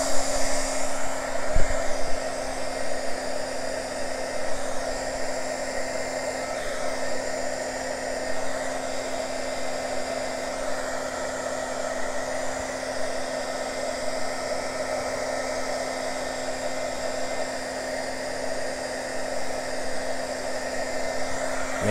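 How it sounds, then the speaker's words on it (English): A heat gun blows steadily across wet wave-style fluid art paint, a continuous close, loud whirring hum of fan and airflow that holds even throughout with a faint knock near the start. "Let's hit it with the dryer. The heat gun."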